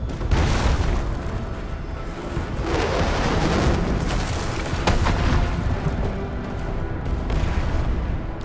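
Heavy artillery strike from the UWST guns in Arknights, a dense rumbling barrage of booms and blasts rolling on loud and continuous throughout, with no pause between impacts.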